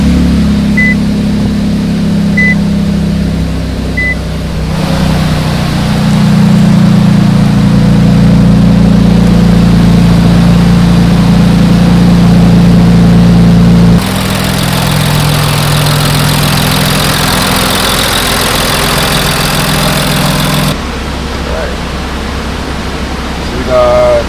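An Infiniti Q50 with a VR30 engine and a flex fuel kit, running on 11% ethanol 93-octane fuel, holds a steady loud drone with low hum and broadband roar, changing in level at a few points and staying loud throughout.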